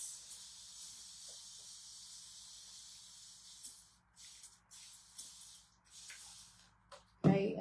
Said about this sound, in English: So I'm going to just spray this